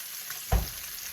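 Breakfast frying in a non-stick pan as it is stirred, a faint sizzle with one brief louder scrape or stir in the middle, no talking.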